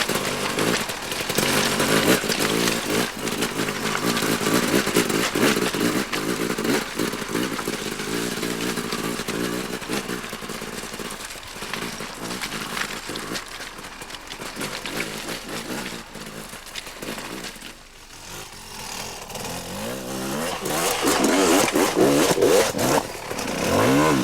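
An off-road motorcycle engine revs and pulls steadily under throttle for the full stretch, a loud, raspy buzz that rises and dips as the rider feeds in smooth acceleration on trail terrain, close by and without talk.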